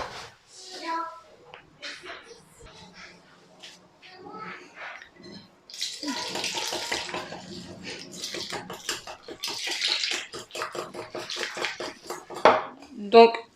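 Crêpe batter whisked with milk in a bowl, with rapid rhythmic clinks and taps of the whisk against the sides that grow louder and busier partway through.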